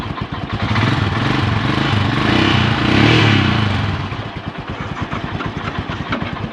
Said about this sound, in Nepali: 3टा बाइक स्टार्ट भयो।